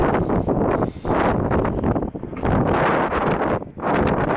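Strong gusts of wind buffet the microphone in loud, roaring waves that dip briefly between blasts, outdoors behind a 2023 Tesla Model 3.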